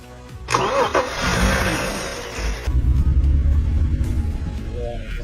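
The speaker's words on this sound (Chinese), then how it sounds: "現在火花塞已經重新清理了，咱們現在再來打火" A flood-damaged BMW X5 with freshly cleaned spark plugs cranks and fires up. A starter whine gives way to a rough, rumbling idle close by, and a voice speaks briefly over it.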